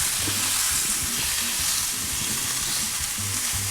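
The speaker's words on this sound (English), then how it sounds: "I'm ready to start frying my ground beef" Ground beef sizzles steadily in a hot pan while a utensil breaks it up and stirs it, scraping and clicking through the constant close frying hiss.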